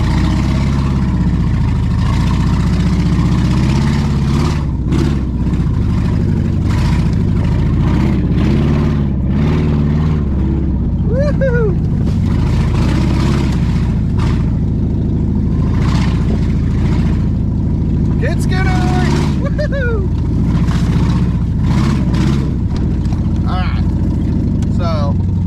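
A Ford Expedition with its top cut off rumbles steadily as it is put in drive, a continuous low engine drone under ongoing talk, with a few brief squeaky sounds over it.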